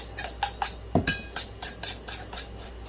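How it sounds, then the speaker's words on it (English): A metal spoon clinks repeatedly against a bowl while stirring a mix of brown sugar and eggs, with about ten sharp, close taps in an uneven rhythm and no talking. "And give it a stir."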